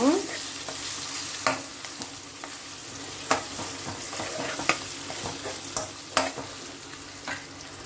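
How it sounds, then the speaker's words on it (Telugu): Raw tamarind chutney with green chillies fries in a pan while a spoon stirs it, giving a steady soft sizzle with sharp scraping clicks and clanks of the utensil against the pan at irregular intervals. "బాగా పచ్చివాసన పోయే వరకు వేయించుదాము ఇలాగండి"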